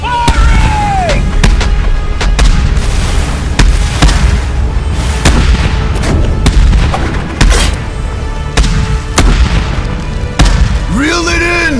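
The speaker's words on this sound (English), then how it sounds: "Fire the harpoons and fire the cannons!" Repeated heavy cannon blasts from a pirate ship boom out one after another over a loud, chaotic roar, with shouting voices and a whooshing sweep near the end.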